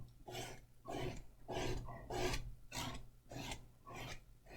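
Repeated rasping scrapes of a tool dragging excess paint across a stencil on a wooden cutting board, about eight strokes in a steady back-and-forth rhythm, close and fairly loud with no talking.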